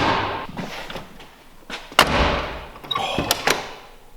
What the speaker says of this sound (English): Here's a before sound of the door.